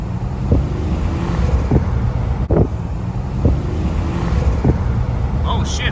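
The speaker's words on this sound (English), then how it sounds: "Let's see if I can make it spool so you guys can hear it." The turbocharged engine of a 1987 Buick Regal Limited revs under load amid rushing wind and road noise, with brief thumps and a thin rising whine near the end.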